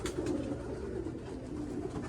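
Pigeons coo at a low, steady pitch, their soft rolling calls sitting under a constant wash of outdoor noise across the whole short stretch.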